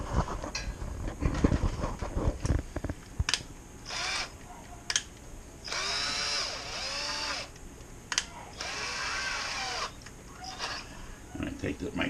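Power drill spinning a sanitized stirring wand in a batch of mead to stir and degas it, whirring in several bursts of a few seconds each with clattering and handling noises between them.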